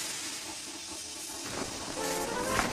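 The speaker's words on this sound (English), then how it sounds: "He was so scared, he let out a huge burst of steam" A steam locomotive lets out a big burst of steam, a loud broadband hiss that swells toward the end over a low rumble, with no talking.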